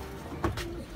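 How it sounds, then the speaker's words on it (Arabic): Australian pigeons in a Damietta, Egypt pigeon loft give a single brief, soft coo that is faint against low background noise. "ده الحمام الاسترالي"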